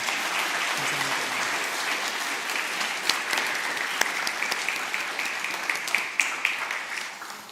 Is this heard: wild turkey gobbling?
no